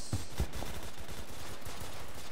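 Rapid automatic gunfire from the Roblox shooter Phantom Forces rattles without a break, with a few heavier low thumps near the start and a dense crackle sustained throughout at even volume.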